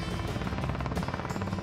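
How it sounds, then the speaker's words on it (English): A helicopter in flight, its rotor blades tilted to steer during a winching practice, makes a steady, loud, continuous chopping drone throughout, with no voices. "Captain Kate controls the helicopter by pointing the rotor blades in the direction she wants the helicopter to fly."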